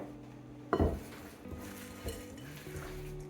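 A utensil knocks against a bowl as chocolate chips are stirred into oatmeal cookie dough, one firm clunk followed by softer scraping and occasional light taps, close and fairly quiet.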